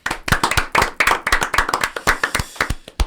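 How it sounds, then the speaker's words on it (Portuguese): A few people clap their hands in quick, uneven bursts, close and crisp, a brief round of applause with no talk. "Palmas!"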